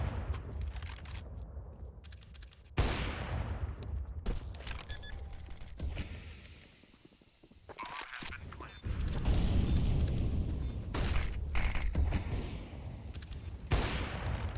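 Gunfire in the video game CS:GO comes in bursts of rapid shots with a break in the middle, loud and close, with other game noises around it.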